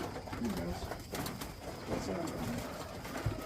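Soft racing pigeon coos repeat faintly over a noisy, rustling background, several birds calling at a low murmur.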